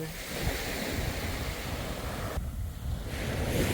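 Ocean waves wash onto the beach at Cabo Pulmo in a continuous broadband roar with gusting wind noise over the microphone, loud and close, without speech.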